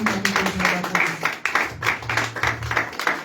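A church congregation claps in a fairly quick, steady rhythm, with a few voices and musical tones underneath.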